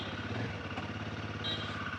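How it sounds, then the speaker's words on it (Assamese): A broken-down motorcycle with an engine oil leak idles nearby, a low steady engine rumble with light clatter, fairly faint. "বেয়া বাইক লৈ গৈছোঁ বেয়া বাইক ঠিক কৰিবলৈ"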